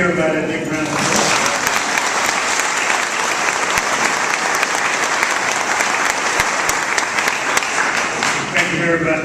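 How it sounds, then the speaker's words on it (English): Sustained, fairly loud applause from an audience at a school's 100-year celebration, a dense steady clatter of clapping lasting about nine seconds. "So let's give everybody a big round of applause."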